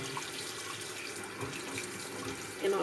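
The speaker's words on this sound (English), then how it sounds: "I'm gonna wash some lemons" Tap water runs steadily into a sink while lemons are rinsed under the stream, a continuous close splashing rush with a slight bump near the end.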